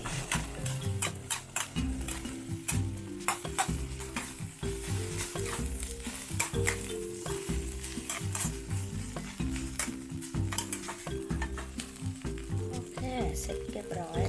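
Egg fried rice with tomato and a little bird's eye chili is stir-fried in a pan, giving a steady close sizzle with stirring and scraping throughout, under continuous background music.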